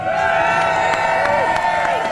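A crowd cheers and whoops at the Louis Vuitton Cup dock walk, a dense, loud, continuous roar with scattered shouts and whistles layered over it, and voices mixed into the din.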